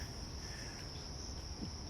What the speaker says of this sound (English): Got a lot of cicadas.